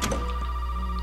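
A telephone rings in the Resident Evil 7 survival horror game, a steady electronic ring tone holding throughout, loud and close with no talk over it.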